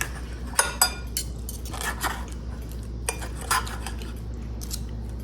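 Cutlery cuts into a fried egg on avocado toast, with several sharp clinks and scrapes of metal against a plate spaced irregularly over a quiet background.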